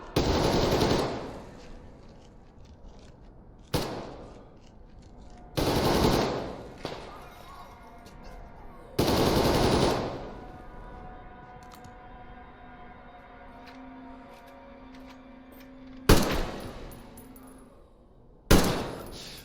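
Loud, close automatic gunfire from the video game Metro Exodus, coming in several sharp bursts separated by short pauses, with a low ambient rumble in between.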